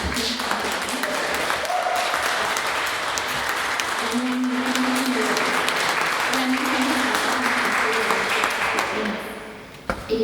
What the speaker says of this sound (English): Can we get another round of applause for Ryan and the team for putting together?